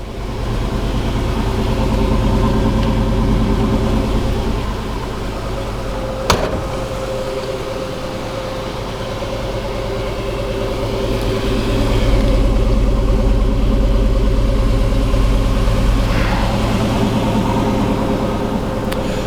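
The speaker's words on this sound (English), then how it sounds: "Anybody who's a fan of a small block V8 engine would have to love that wonderful sound." A small-block V8 engine in a 1964 Chevrolet C10 pickup idles with a deep, steady rumble, briefly blipping the throttle partway through, close and loud with no talking.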